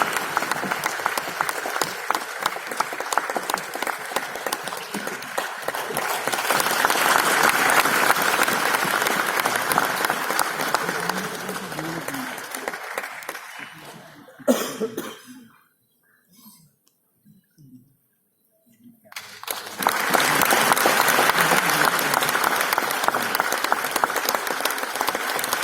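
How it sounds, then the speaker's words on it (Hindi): An audience claps at an award ceremony in sustained, dense applause that fades out, drops to near silence with a few scattered claps, then swells again into full clapping. "तालियों की गड़गड़ाहट निरंतर"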